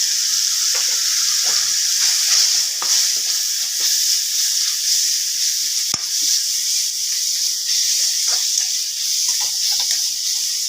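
Steady, loud sizzling of turmeric, chili and sambar powders sautéing in hot oil for a black-eyed pea gravy, with occasional clicks and scrapes of stirring throughout.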